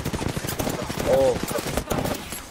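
Gunfire crackles during a video game shootout, rapid bursts of shots repeating throughout with a brief tonal whine in the middle, while a voice talks over the action.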